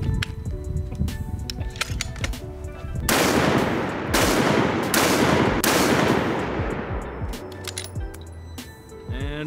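Sharp rifle reports from a Howa 1500 in 6mm Creedmoor at an outdoor target range, several loud cracks a second or so apart with ringing decay, mixed with clinks and handling noise.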